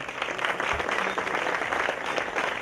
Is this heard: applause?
yes